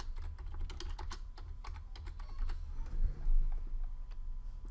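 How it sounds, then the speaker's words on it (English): Steady typing on a computer keyboard while entering text in Photoshop: rapid, irregular key clicks follow one another closely, near and fairly quiet, with no talk. "and then type in our new text"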